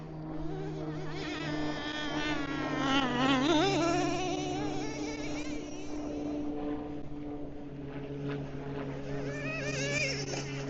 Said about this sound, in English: this is really kind of like a nice area to run a nitro